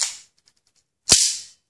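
Two sharp metallic clacks from a Diamondback 380 pistol slide being racked, one at the start and a louder, ringing snap about a second later, close by with silence between.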